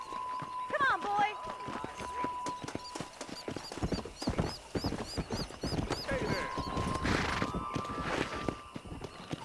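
Horse hooves clip-clopping at a steady walking pace in the Red Dead Redemption video game, with a brief neigh near the start and a voice talking over the footfalls.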